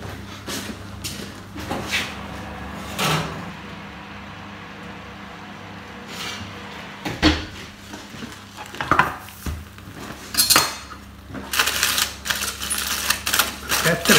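Baked eggplants are pulled from an oven, with a run of clattering knocks, tray and door clunks and scrapes that grow busier toward the end, close by in a quiet kitchen.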